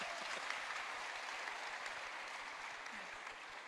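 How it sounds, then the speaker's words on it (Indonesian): An audience at a crypto regulation talk applauds steadily, a dense, even wash of clapping that holds at a moderate level throughout without fading away. "Kasih tepuk tangan dulu"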